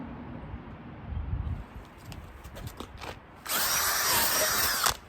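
A DeWalt power drill whirs in short bursts, then a louder spinning brush attachment scrubs harshly against car mats for about a second and a half before stopping.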